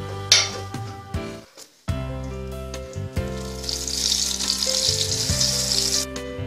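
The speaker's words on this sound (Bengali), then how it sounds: "এবার আমি গোটা জিরেগুলো ওপর দিয়ে দিলাম আর শুকনো লঙ্কা।" Whole cumin seeds and dried chilies sizzle in hot mustard oil for a moong dal tempering. A hissing crackle builds midway and is partly masked by loud background music.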